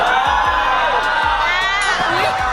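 A crowd on a behind-the-scenes set cheering and whooping, with excited high shouts that rise and fall and voices overlapping throughout.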